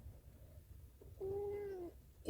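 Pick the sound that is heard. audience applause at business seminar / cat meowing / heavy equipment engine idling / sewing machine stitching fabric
cat meowing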